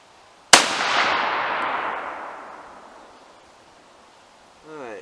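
A Howa rifle firing a Nosler Varmageddon 40-grain round: one sharp, loud close crack followed by a long rolling echo that fades over several seconds, then a brief murmur of voice.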